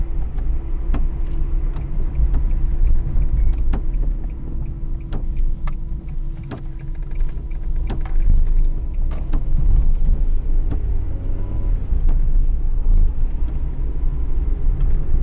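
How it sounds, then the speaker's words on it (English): A tired car with a poorly working, juddery clutch drives out through a village, giving a steady low engine rumble and road noise from inside the cabin, with faint knocks and clicks throughout and no talking. "The clutch isn't very good. It's very juddery at the moment."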